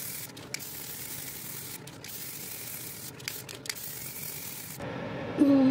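A can of Plasti-kote metallic brass spray paint hisses steadily and close in bursts, with a few short breaks between passes and a brief pause near the end.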